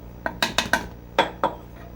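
Sugar being mixed into flour in a bowl with a utensil, six sharp clinking scrapes close by, a cluster of three in quick succession and then two more after a pause, with no talking.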